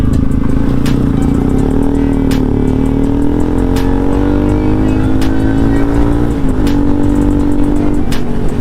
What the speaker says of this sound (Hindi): भाई, पहली बार जेड900 चलाया भाई, पहली बार।